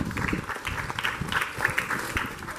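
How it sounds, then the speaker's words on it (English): A crowd at a summer camp opening ceremony applauds civilians from the local communities, a soft, steady wash of many hands clapping heard from some distance, continuous with faint voices mixed in. "Let's give them all another round of applause."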